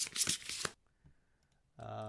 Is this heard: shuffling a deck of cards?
yes